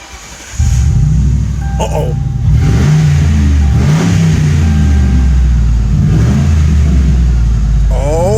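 Modified Ford Crown Victoria street car engine cranks to life, then revs hard in loud, rising and falling bursts over a steady rumble, with a brief spoken remark near the start.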